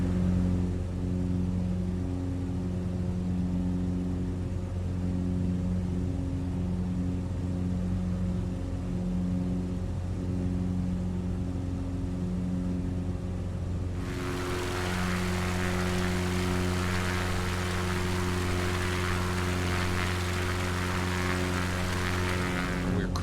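Steady, continuous drone of a simulated XCub propeller plane cruising over backcountry terrain, an even engine hum with a broadband wind-like roar that brightens partway through and holds without any talking.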